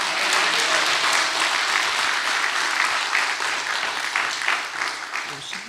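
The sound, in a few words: congregation applause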